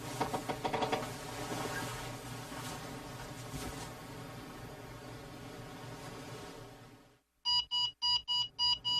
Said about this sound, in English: As usual, Joe turns off the alarm and rolls out of bed